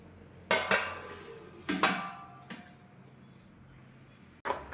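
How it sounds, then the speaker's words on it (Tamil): Metal pot lid set down on a cooking pot of simmering pea kulambu (curry), giving a few sharp clanks and rattles at close range, with a softer clatter following and another knock near the end. "ஒரு மூடி போட்டு மூடி வைங்க."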